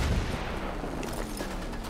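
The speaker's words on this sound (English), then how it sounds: "the enemy's shooting at me" Enemy gunfire in the Far Cry 6 video game, a dense, steady rumble of distant shots and low booms running the whole way through with no talking.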